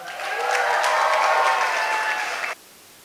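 Applause after a wedding toast at a reception fills the room, as a crowd claps steadily with some cheering, swells quickly, then cuts off abruptly near the end.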